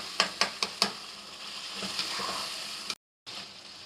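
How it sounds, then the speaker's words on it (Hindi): Shinwari chicken karahi with mashed tomatoes and black pepper fries in a wok, giving off a steady soft sizzle, opened by a few sharp metallic clinks of stirring and broken by a brief moment of silence. "1 से 2 मिनट हम मज़ीद इसकी भुनाई करेंगे"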